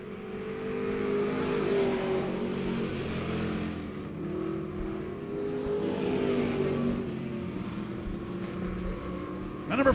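POWRi Pure Stock race cars in a heat race on a dirt oval track at Monett Raceway, engines droning and revving steadily throughout, loud and continuous with several cars rising and falling as they circle.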